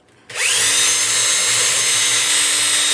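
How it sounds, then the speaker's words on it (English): A power drill spins up suddenly and runs loud and steady, drilling holes while building a speaker system, a close continuous whine with no talking. "I'll drill the holes."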